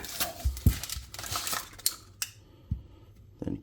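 A knife trims the ends off an onion on a cutting board for a beef stew, a few sharp close cuts and crinkly papery rustles spaced irregularly, without talk.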